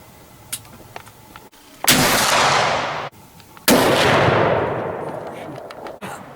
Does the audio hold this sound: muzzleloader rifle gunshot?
yes